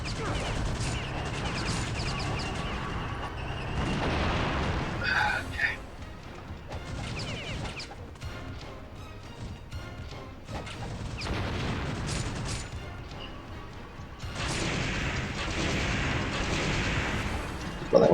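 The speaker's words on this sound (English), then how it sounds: "enough with the machine gun fire" Machine gun fire in Ninja Gaiden Sigma, with dense, continuous bursts of gunfire and crashing impacts that rise and fall in intensity over game effects, loud and close throughout.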